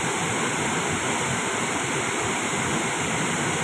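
Tat Ton waterfall in Tat Ton National Park, Chaiyaphum, Thailand, roars as a steady, dense broadband rush of falling water, loud and close, with no voices.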